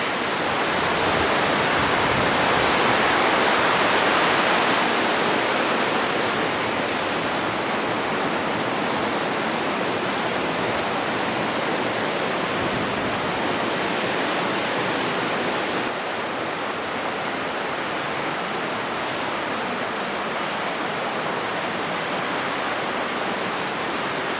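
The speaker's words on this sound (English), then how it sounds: "Crossing the San Joaquin River again." Steady, loud rush of the San Joaquin River flowing at a trail crossing in a forest, a broad continuous roar of water that eases slightly partway through, with no voices.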